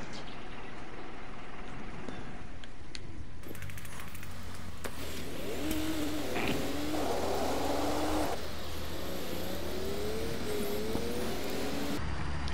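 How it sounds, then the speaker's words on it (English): A concrete mixer truck engine in the Construction Simulator game on PS4 drones steadily, then revs through rising gear-change sweeps while driving, loud and continuous with no talk. "Now take a seat in the concrete mixer."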